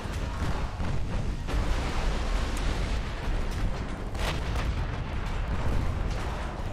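Heavy naval battle in the Ultimate Admiral video game, with battleships and torpedoes striking: a dense, continuous roar of overlapping booms and blasts rumbling throughout, loud and unbroken, with no talking.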